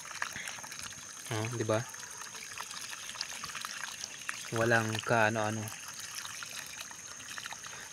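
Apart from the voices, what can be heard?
fresh water falling from the top of a well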